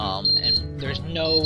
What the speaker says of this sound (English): Sorry about that, that's my alarm.